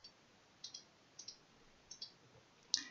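Faint, sharp mouse clicks on a computer while choosing bank-slip payment options for a sanctuary donation campaign, sounding singly and in quick pairs at irregular intervals, with a slightly louder click at the end against quiet background hiss.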